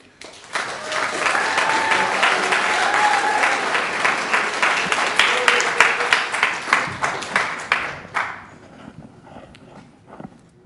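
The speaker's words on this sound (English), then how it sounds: "if you could give a round of applause, please" An indoor audience claps and applauds for a presenter at a talk event, a dense, loud burst of clapping that swells, holds for several seconds, then tapers off into scattered claps and quiet.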